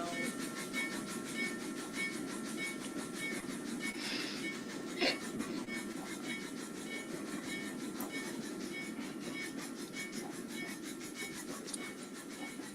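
A train engine rolls past with a steady, loud rumbling rattle of wheels on track, a few sharp clanks along the way, and no voices.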